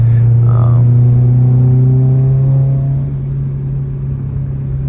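A Subaru STI cruising with a steady, loud engine drone and light turbo boost, the engine note holding level before easing slightly as it settles after a shift.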